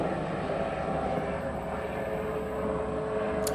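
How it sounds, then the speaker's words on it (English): A helicopter passes overhead outdoors, a steady broad engine and rotor drone that stays fairly loud and constant throughout with no talking. "Helicopter."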